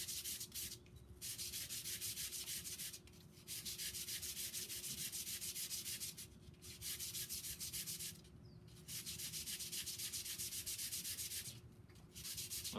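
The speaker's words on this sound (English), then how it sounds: "I kind of miss those moments of just sharpening charcoal with my classmates" A charcoal drawing stick sharpened by rubbing, a steady gritty scraping in long strokes with brief pauses between them, close and quiet, no talk.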